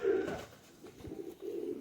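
Sialkoti and Kasuri pigeons coo softly in two low, rolling phrases with a short pause between them. The birds are close but quiet, and no voices can be heard.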